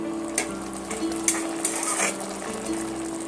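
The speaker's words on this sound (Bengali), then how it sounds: "খুন্তি দিয়ে এইভাবে একটু ধনে পাতাগুলো নেড়ে ছেড়ে দেবো" A spatula stirs fresh coriander leaves through a simmering egg bhuna curry, with a low continuous sizzle and a few light scraping taps against the pan.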